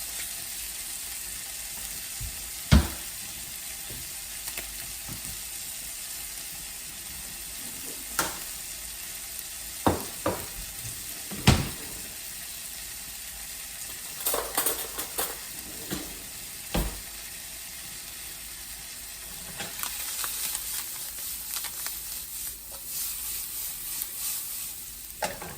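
Pancake batter sizzles and fries in a pan with a steady broadband hiss, punctuated by occasional sharp clinks and scrapes of a spoon; no one speaks.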